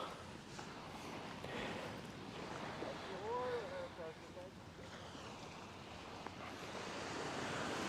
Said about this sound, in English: I love hearing the ocean, too.